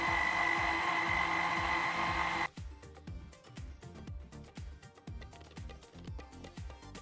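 An electric mixer spins to blend sattu flour with milk, starting as a loud steady whir and then shifting to a rougher, pulsing churn as the mixture tumbles, close and continuous with no talking.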